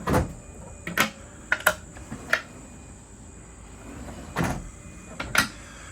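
Drawers low down inside a 2023 Latitude Cobalt 26 motorhome built on an IVECO Daily 50C210 chassis being slid open and shut, giving several separate close thuds and rolling knocks over a quiet interior hum, with no talking.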